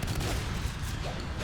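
Dense, continuous shotgun fire in the Natural Selection 2 multiplayer game, four shotguns in close combat in the sub-access area, blasts overlapping into a steady loud barrage with no clear gaps.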